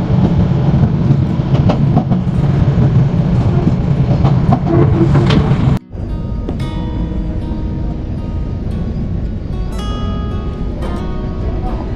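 A Paryatak Express passenger train from Dhaka to Cox's Bazar rumbles loudly along the tracks with a heavy, continuous roar. After an abrupt cut partway through, a steadier rolling clatter follows.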